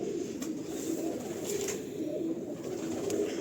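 Pigeon cooing in a breeding loft of net-type pigeons, a steady low throaty coo repeating throughout at close range with no talk.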